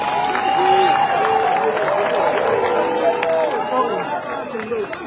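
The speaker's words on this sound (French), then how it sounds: "Et pour ça nous allons applaudir pour vous." A large outdoor crowd at a political campaign rally in Moanda applauds and cheers, a dense, steady wash of clapping and voices held fairly loud for several seconds before easing slightly.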